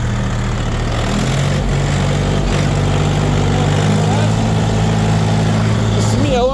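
A Kentavr S three-cylinder tractor engine idles with a steady low, throbbing rumble close by, while someone talks over it.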